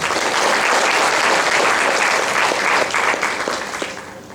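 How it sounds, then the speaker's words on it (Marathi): Sustained, dense applause from an indoor audience at a Marathi cultural event, loud and steady for about four seconds before tapering off at the end. "आपण यासाठी जोरदार टाळ्या वाजवल्या"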